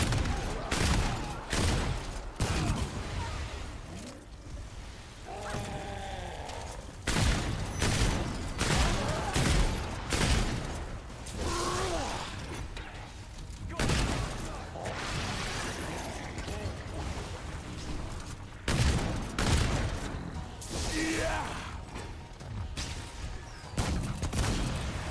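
Gunfire in Remnant 2 erupting in repeated heavy bursts and volleys, loud and close, with pauses between clusters of shots across a long firefight and little talk.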